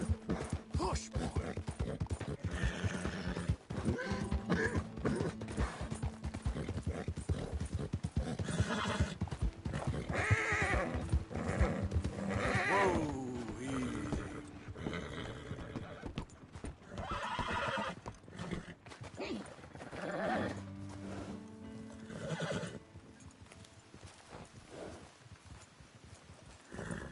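Horse galloping and neighing in a PS4 video game, hoofbeats clattering in a fast rhythm with several whinnies over them, mixed with game sound and a voice talking at times.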